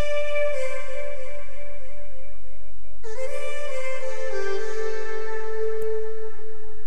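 A dry, sustained instrument tone holds and then shifts to a new note partway through, clean and close with no added echo.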